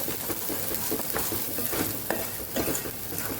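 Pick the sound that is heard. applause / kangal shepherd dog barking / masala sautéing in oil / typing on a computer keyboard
masala sautéing in oil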